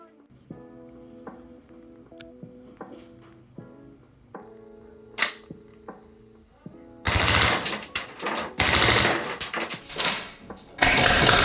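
A Poseidon Orion No 2 airsoft pistol fires on full auto, with rapid loud bursts of sharp mechanical clatter coming after some quieter semi-auto shots and a background electronic hum.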